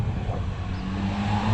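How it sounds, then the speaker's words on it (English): A car drives by on a street, a close, steady low engine rumble that swells slightly toward the end, with no talk. "look at this cool car coming up"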